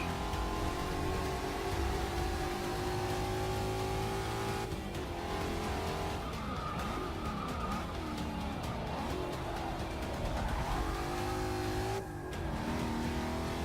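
A Mustang race car in Forza Motorsport 6 accelerates hard with a loud, steady engine roar, shifting pitch through gears and briefly squealing its tires mid-way before revving on alone.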